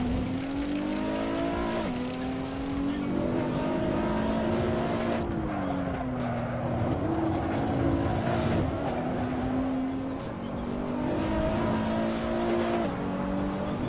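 A Nissan GTR engine revs hard in the Assetto Corsa racing game, a loud continuous drone rising and falling through gear changes as the car is pushed on track.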